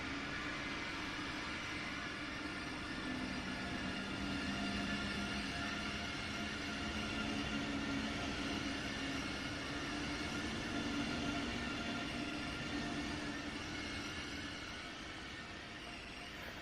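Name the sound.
ICE train in the Train Sim World 4 video game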